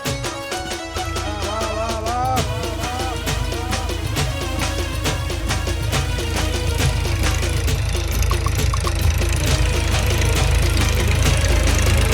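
A tractor engine runs close by on a farm, a loud, steady diesel chug with rapid, regular knocking pulses that continue evenly for the whole stretch.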